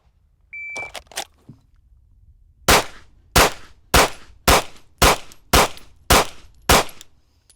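Pistol shots fired at shooting targets, a timer beep followed by a few quick shots, then a pause and eight evenly spaced loud sharp cracks, close by and with no talk over them.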